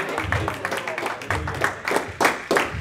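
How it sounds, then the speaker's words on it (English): A church congregation claps in a steady, even rhythm, roughly three claps per second, close and fairly loud, with voices mixed in underneath. "Come on, clap your hands and tell the Lord thank you."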